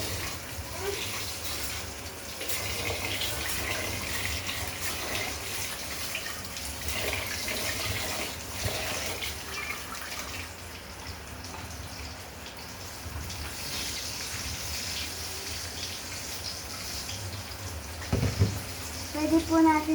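Tap water runs steadily while rice is rinsed by hand in a kitchen sink, a continuous wash of splashing that holds at a moderate level, with a few louder knocks and sloshes near the end and a voice speaking over it.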